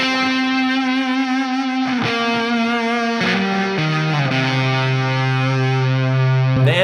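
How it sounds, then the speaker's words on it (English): A sustained, heavily overdriven high-gain electric guitar tone played through a Sewer Badger amp, alone and loud, with long held notes that slide and shift pitch several times and ring on without decaying. "So your guitar on 10 needs to be so gainy that you just get this like, ooh, kind of like sustaining sound."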